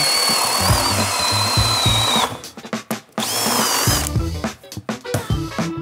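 A Harbor Freight power drill fitted with a spade speed bit bores large holes for rough-in, whining loudly in two long runs, each ending in choppy, stuttering bursts as the bit breaks through.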